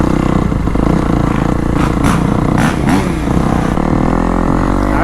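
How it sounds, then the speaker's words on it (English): Motocross dirt bikes circling a track at Pax Trax in Daytona, Florida, a steady loud engine drone with rising revs and passing whines, heard from close by without talk. "They're doing big bikes and little bikes right now."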